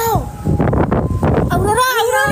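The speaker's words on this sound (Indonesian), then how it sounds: "berangin banget ketinggian" Strong wind at a high, exposed spot buffets the microphone with a steady low rumble, while people talk over it throughout.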